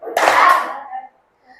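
Sharp hand claps during the Indonesian 'tepuk nyamuk' mosquito-clap counting game in a classroom lesson, a burst of smacks and a voice over the first half before the sound drops away to near silence.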